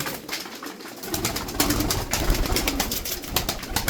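Tumbler pigeons, flying and display birds, coo and flap indoors, soft throaty calls mixed with bursts of wingbeats brushing close, fairly loud and without talk.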